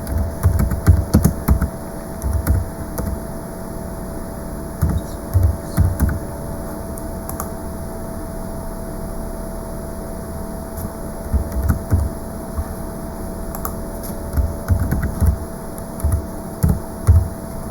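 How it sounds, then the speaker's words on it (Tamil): Bursts of computer keyboard typing, clustered in short runs with pauses between, entering names and details into invoice billing software; close and fairly loud against a steady background hum. "நான் இப்போ டைப் பண்ணுறேங்க."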